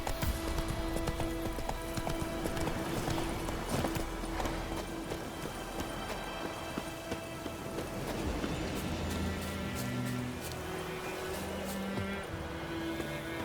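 Horse hooves clip-clop steadily under a rider in The Witcher 3, a busy rhythmic patter over a dense ambient wash, with no speech.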